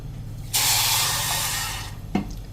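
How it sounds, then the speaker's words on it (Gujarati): A cup of water pours into sugar in a pan for syrup, a loud steady splashing rush of about a second and a half that tapers off, followed by a brief clink. "અને એની સામે આપણે 1 કપ પાણી નાખી દેશું"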